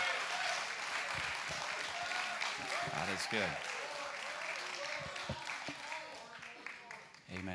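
A church congregation at a Sunday morning service claps and calls out praise, a dense, steady wash of hands and voices that continues throughout, with a few voices rising clearly over it.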